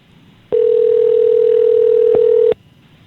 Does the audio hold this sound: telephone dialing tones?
yes